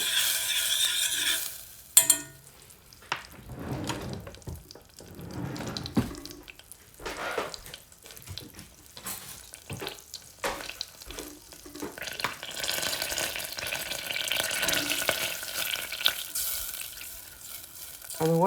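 Three tablespoons of butter melting in a pan for a scalloped potato sauce, a continuous close sizzle and crackle with occasional stirring scrapes and brief quieter dips.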